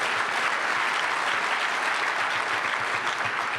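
An audience at the 17th Annual Barbara K. Olson Memorial Lecture applauds Brett Kavanaugh, a steady, dense wash of many hands clapping throughout, fairly loud with no break.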